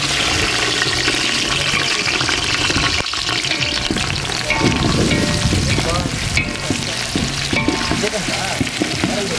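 Onion frying in a loud, continuous oil sizzle, stirred and scraped throughout, close and dense with no pauses, from an outdoor village cook-up of chicken.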